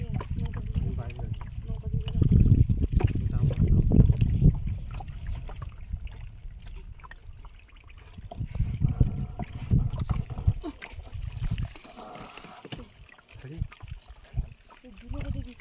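A small boat moves along the edge of a jungle in the Marichjhapi forest, with low water swishing and lapping that rises and falls, while people talk near the mic.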